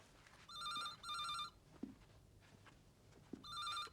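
An old telephone rings in the paired double trills of a British phone, heard quietly in a room, with faint knocks and movement between the rings.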